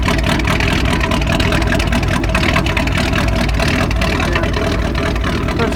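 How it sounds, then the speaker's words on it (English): A car engine idles cold on a winter day with a steady, loud, dense rumble that holds constant throughout, close by and with no talking. "That's pretty much what it sounds like. Except for this is a cold idle."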